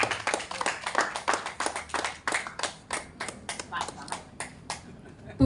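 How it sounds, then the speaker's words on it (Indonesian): Applause at an Indonesian Hindu broadcasting body's inauguration ceremony: a steady patter of many hands clapping for several seconds, moderately close, with voices faintly underneath. "berikan aplaus"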